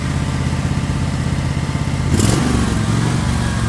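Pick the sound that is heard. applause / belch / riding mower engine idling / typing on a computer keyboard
riding mower engine idling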